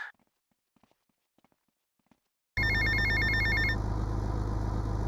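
A telephone rings in the video game GTA Vice City: faint footstep-like taps first, then a loud, steady electronic ring that sounds continuously through the second half, alone without talk.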